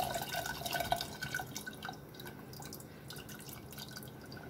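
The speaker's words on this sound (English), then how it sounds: "And then I am going to add this tamarind juice to the dal." Tamarind juice poured into a pot of dal for pappu charu, a soft continuous liquid pour with faint dripping, quiet and close, fading slightly toward the end.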